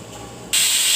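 Hot oil for a tempering hisses and sputters loudly once asafoetida is added, jumping abruptly from a low background hiss to a dense, bright crackle partway through.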